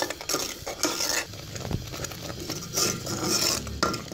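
Custard being stirred in a pan over a medium flame, with a spoon scraping and clinking steadily against the metal in close, continuous strokes and no voices.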